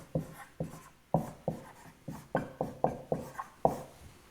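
Chalk or marker strokes on a board while a physics solution is written, a steady series of about a dozen short scratchy taps and strokes, close and clear with no talking.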